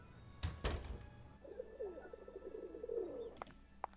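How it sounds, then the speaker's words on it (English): Pigeons coo in a low, repeated warble in a Venice scene from the game Nancy Drew: Phantom of Venice, with a couple of dull thunks before it and faint chirps at the end. "I can hear some cooing of the birds, though."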